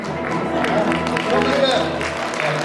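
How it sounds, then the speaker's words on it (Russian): Audience applause at a jubilee evening celebration, steady clapping filling the hall with voices talking over it throughout. "Наше браво и аплодисменты в этот момент."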